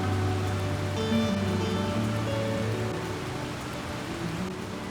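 Steady rain falls along the San Antonio River Walk, a constant close hiss of drops with no voices, easing slightly toward the end.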